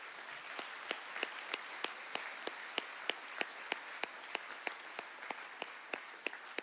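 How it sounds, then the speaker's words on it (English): Steady audience applause fills a high school commencement ceremony at Valley View, a faint, even wash of many hands with a few louder, regular claps standing out near the front. "If we could give them a round of applause."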